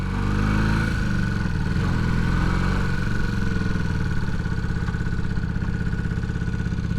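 A Honda CB250 Super Dream motorcycle engine idles steadily close by, a continuous low, even chug with light mechanical clatter and no talking over it.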